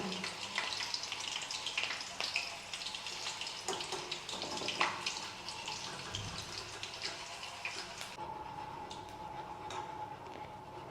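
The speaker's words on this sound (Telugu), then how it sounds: "పచ్చిమిర్చి కూడా అదే ఆయిల్లో ఫ్రై చేసేసుకుందాం" Green chilies frying in oil give a faint, steady crackling sizzle with scattered pops throughout, and the sound thins out toward the end.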